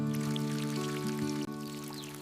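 Water pours steadily onto the soil of a freshly potted lemon tree, a continuous trickling splash with a faint steady hum underneath.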